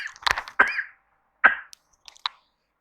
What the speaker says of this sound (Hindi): खांसी लग गई है, पता नहीं क्यों अचानक से